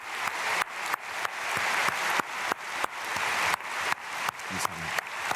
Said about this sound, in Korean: 우리 귀한 사랑하는 주님의 자녀들 우리 박수로 축복하겠습니다